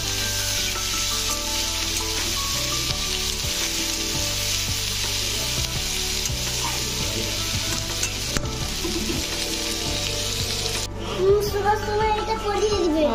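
Sliced onions frying in a pan give a loud, steady sizzle throughout, with spatula stirring and scraping and faint background voices near the end.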